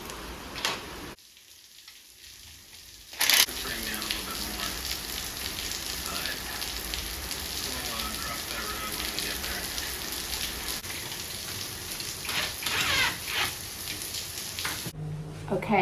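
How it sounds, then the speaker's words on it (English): Steady, dense hiss of heavy winter rain pouring down in Sydney, continuous and fairly loud, with a few sharper knocks and a brief drop-out near the start. "Look at that rain."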